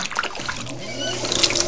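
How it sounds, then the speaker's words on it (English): Water is poured into a bowl during a pottery session, a short run of trickling and splashing with faint voices underneath. "Maybe add some water to that bowl."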